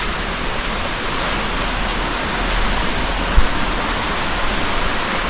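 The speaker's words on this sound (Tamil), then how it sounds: "ஸோ இந்த தண்ணி போகிற சவுண்டு கூட த்ரூ அவுட் த நைட் நம்ம கேட்டுகிட்டே இருக்குது இது இங்கே வந்து அருவியிலேருந்து வருது" A stream at a Kollimalai hill resort flows down from a waterfall in a steady, loud, unbroken rush of water, heard close with no voices.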